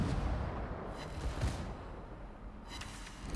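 The destroyer Jervis fires its guns at transports in World of Warships: heavy booming shots at roughly one-second intervals, each with a rumbling tail over continuous low battle noise.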